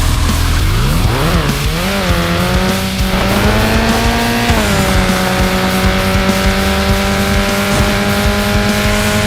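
Race car engines drone loudly and steadily in the mobile racing game True Speed, with a rising, shifting engine whine and tire squeal near the start, continuous and close with no voices.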